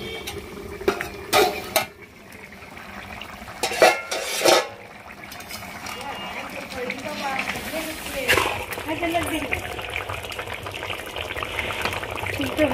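A pot lid lifts off a simmering pot of curry in a Bangladeshi village kitchen, with metallic clanks and utensil clatter up close, followed by soft bubbling and stirring under a voice.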